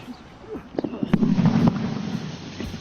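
A grenade goes off in a pit during military training, a loud close blast with a rumbling tail that lasts about a second, over background noise and a voice.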